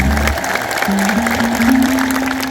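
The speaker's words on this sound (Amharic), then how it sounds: "በደንብ አጨብጭቡ፣ በደንብ አጨብጭቡ።" An audience claps at an Ethiopian Orthodox church hymn gathering, a loud, dense wash of applause from a crowd, steady throughout with a faint held tone underneath.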